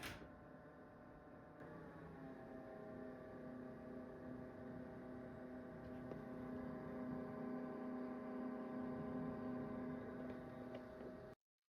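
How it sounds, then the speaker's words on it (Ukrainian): A constant mechanical whir from a portable power station's cooling fans with a steady tonal hum, moderately quiet and unchanging, with no voices. "Слухайте, як працюють вентилятори."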